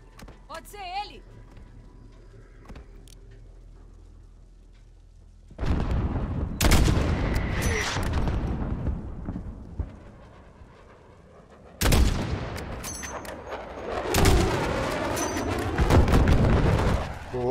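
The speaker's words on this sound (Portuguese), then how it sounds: "Boa, bombardeio. É só umas bombinhas só," Artillery bombardment in the video game Call of Duty: Modern Warfare (2019) sends heavy booming explosions in two loud bursts, each rumbling on for several seconds, with a player talking over the gunfire.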